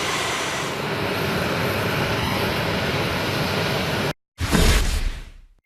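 Military aircraft engines at a base in Tampa, Florida, roaring as a steady, loud broadband drone that cuts off abruptly, then returns briefly as a swelling rush before fading out.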